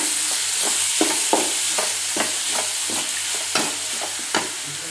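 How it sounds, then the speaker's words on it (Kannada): Curry leaves, dill and coriander sizzle as they are sautéed in a tempering pan, an even frying hiss broken by regular scraping stirs of the spatula, close and loud. "ಕೊತ್ತಂಬರಿ ಸೊಪ್ಪನ್ನು ಹಾಕ್ಕೊಂಡ್ಬಿಡೋಣ. ಈಗ ಸ್ವಲ್ಪ ಬಾಡಿಸ್ಕೊಳ್ಳೋಣ."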